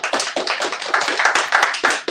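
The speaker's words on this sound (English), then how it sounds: "let's give Sankofa Books another round of applause" A small audience at a book reading of Black authors claps in quick, uneven bursts, the applause close and fairly loud.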